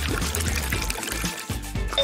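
Water poured from a container to mix alginate for a casting craft, a steady splashing trickle that runs continuously and close by, with brief dips as the stream falters.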